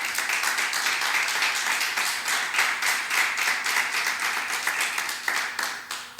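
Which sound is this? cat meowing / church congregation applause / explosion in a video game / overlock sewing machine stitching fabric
church congregation applause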